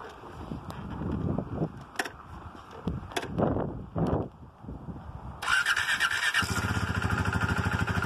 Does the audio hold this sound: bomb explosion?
no